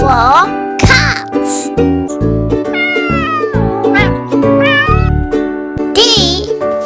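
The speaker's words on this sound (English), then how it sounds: "C for cat." A cat meows repeatedly over a bright children's alphabet song, with the meows rising and falling clearly above the steady music.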